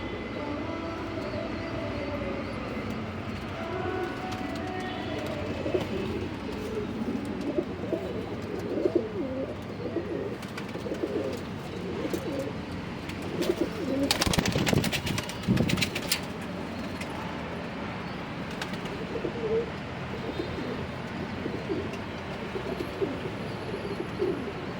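Pet birds coo softly and repeatedly at moderate distance, soft rounded calls over a quiet room, broken by a brief burst of rattling noise midway.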